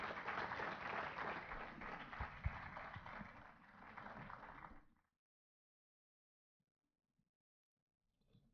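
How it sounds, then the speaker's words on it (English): Steady applause from a panel discussion audience fills the first five seconds, dense and sustained, then cuts off into near silence with a faint sound near the end. "A big round of applause for Mr. Nandkishore Atal."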